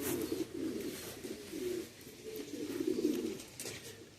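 Pigeons coo softly in a rehoming cage, repeated low rolling coos in a steady rhythm, fairly close but faint, with no talking.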